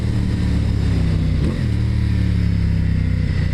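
A Ducati XDiavel motorcycle engine and exhaust while riding, a loud, steady low rumble with a brief surge in revs midway, like a gear change, and no talking.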